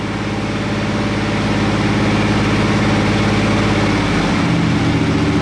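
A Chevy small block 350 V8 runs steadily through a slow rev sweep of roughly 1,000 to 2,000 RPM, a close, continuous low rumble that rises and eases back without a break.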